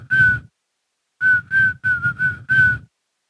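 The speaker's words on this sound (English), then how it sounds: "we heard the whistling." Someone whistles a clear, steady tone in short notes: one held note, a pause, then five quick notes in a row, close and loud.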